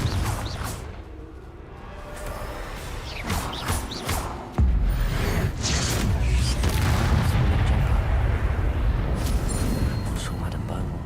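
A Confringo fire-blast spell in Hogwarts Legacy, bursting into a loud explosion. A heavy boom hits midway and is followed by sustained rumbling and crashing debris in a dense, noisy combat scene.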